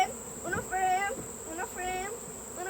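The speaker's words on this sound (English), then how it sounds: "I've got some bees in here, which I don't want any bees in here." Honeybees buzz around a hive frame during a honey harvest, several close insect drones rising and falling in pitch as they fly past, continuous and fairly loud.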